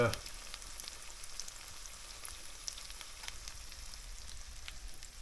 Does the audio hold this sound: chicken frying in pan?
yes